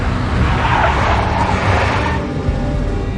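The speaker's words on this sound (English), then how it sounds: "A big black Mercedes." A big black Mercedes in the Max Payne Mobile video game, its engine roaring steadily with a broad tire-skid hiss that swells and fades over a few seconds, loud and continuous, with no talk.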